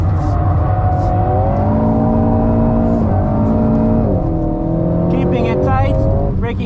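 Alpine A110GT driven hard around a race track from onboard, engine droning loud and steady with pitch climbing and dropping through gear changes, a voice talking over it, and a brief tyre squeal near the end.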